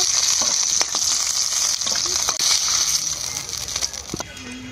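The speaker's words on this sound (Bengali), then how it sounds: "কেটে রাখা আলু কচুটা ভেজে নেব তেলে" Chunks of potato and taro fry in hot oil in a kadai, a loud, continuous sizzle with crackling bursts and occasional stirring scrapes throughout.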